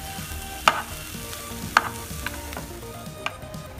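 Boiled grated potatoes are stirred into spices in a pan, with soft scraping and shuffling and a few sharp clinks of a spoon against the pan, quiet and close.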